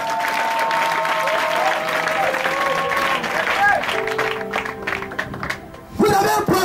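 A church congregation at a Sunday revival service bursts into sustained applause, with a voice audible early and the clapping growing louder and more scattered toward the end.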